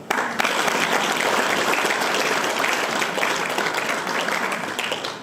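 Loud, dense applause from a crowd at a military training graduation ceremony in a club hall, sustained throughout and easing slightly toward the end, with no voices over it.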